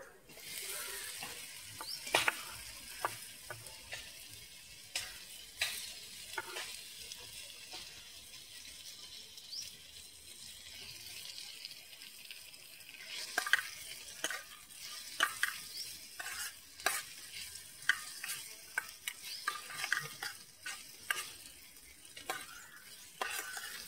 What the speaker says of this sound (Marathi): आता त्याच्यात टॅमॅटो टाकले आपण.